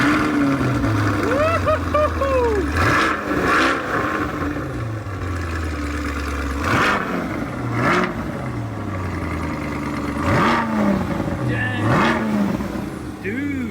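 A 2023 Corvette C8 engine cranks and fires with a sharp crack, then revs hard several times in rising and falling bursts, close and loud, with voices between.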